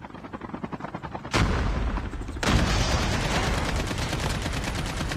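Gunfire in the mobile shooter Call of Duty Mobile during a battle royale match, dense bursts of automatic shots that grow louder and continue steadily, with rapid repeated cracks throughout.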